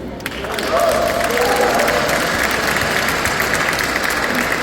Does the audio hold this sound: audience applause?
yes